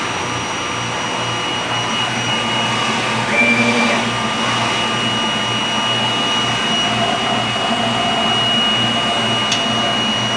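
A DTF printer runs a nozzle test right after a head clean, giving off a steady mechanical whir and hum with faint tonal whine. The sound holds an even level throughout with no voices.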